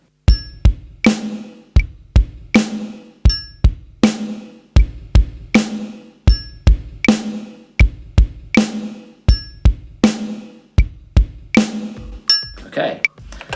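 Drum groove of bass drum and snare at 80 beats per minute: steady alternating kicks and sharp snare hits with a small metallic ping on some beats, even and close, repeating for several bars.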